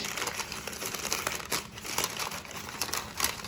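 Brown packing paper around board game components is unwrapped by hand, producing close, continuous crinkling and rustling with sharp crackles.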